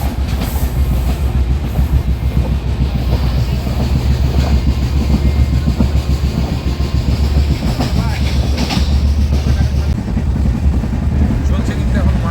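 The Digha–Kolkata Tamralipta Express runs at high speed, about 110, after a stop at Ramnagar; a loud, continuous onboard rumble with rhythmic clickety-clack of wheels over rail joints fills the whole stretch.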